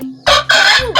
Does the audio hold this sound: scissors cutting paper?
no